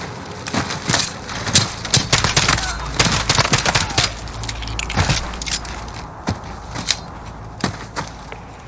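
Dense bursts of automatic rifle fire and scattered single shots in Call of Duty: Modern Warfare (2019), loud and rapid with clattering, metallic transients, continuing in irregular volleys over a steady low rumble.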